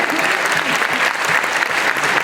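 Audience applause fills a gaming conference hall at TGS 2012, a dense, steady wash of clapping from a large crowd that holds at full strength throughout, with no voices standing out above it.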